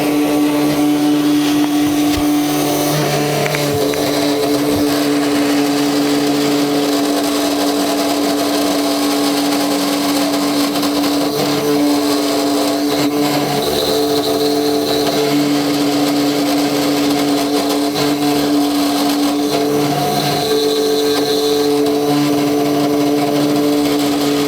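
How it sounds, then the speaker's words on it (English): A 3018 CNC router spindle runs steadily while carving, a continuous loud whine with a constant pitched hum and faint fluctuating cutting noise throughout, no talk. "Turn the spindle on, which you can already hear."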